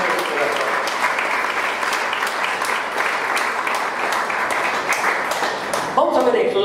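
A church congregation claps steadily as an offering of applause to the Lord, a dense, even wash of hands lasting several seconds before a brief louder burst near the end.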